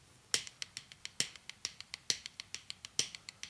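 Sixteenth-note triplet drum fill on a drum kit, right-hand single strokes with left-hand doubles in between, heard as quick, crisp, evenly spaced hits with stronger accents recurring in a steady pattern, played alone at moderate volume.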